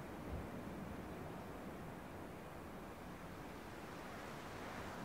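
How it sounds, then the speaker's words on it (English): Steady ocean surf washing along a shore in the game Dear Esther, a continuous broad rushing wash at an even level with no voices or other distinct sounds. "I can still hear the waves and everything."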